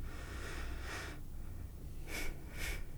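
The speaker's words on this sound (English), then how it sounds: "just breathe through your nose." Slow breaths drawn in and out through the nose while seated, a few soft airy sniffs and exhales, close and quiet against a low background hum.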